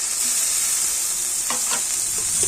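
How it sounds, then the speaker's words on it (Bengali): Chopped tomato frying in a hot pan gives a loud, continuous sizzle, with a few stirring scrapes near the end. "আর টমেটো কিন্তু আবার একটু ভালো করে ভেজে নেবো আর টমেটোটা একটু নাড়াচাড়া করে নেবো"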